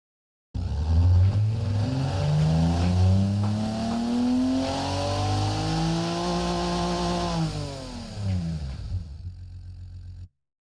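Turbocharged six-cylinder engine in the Automation car-building game during a test pull, revving steadily upward for several seconds, then dropping back down as the pull ends.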